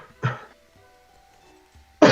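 Two short, harsh coughs, one near the start and a louder one at the end, separated by near silence with a faint low hum.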